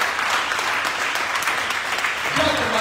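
Church congregation clapping during a worship service, a loud, continuous burst of many hands that stays steady, with a voice cutting in near the end.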